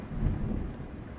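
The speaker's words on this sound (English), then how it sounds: "Man, the thunder is just interesting." Thunder rolls with rain in the Euro Truck Simulator 2 driving game, a deep low rumble that swells briefly and then fades into the steady hiss of rainfall.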